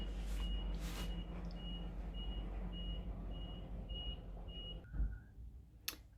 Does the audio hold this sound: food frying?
no